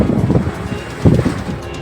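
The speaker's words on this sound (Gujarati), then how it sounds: "લીંબડીના ભોઈકા, શિયાણી, ઘાઘરીટિયા, ભલગામડા, સૌકા, બોડિયા, બલદાણા, ટીંબા, સમલા સહિતના ગામોમાં જોરદાર પવન ફૂંકાયો" Strong storm wind sweeps through villages around Limbdi in Saurashtra, heard as loud, low buffeting gusts that swell and ease in two main surges against the microphone, with no voices.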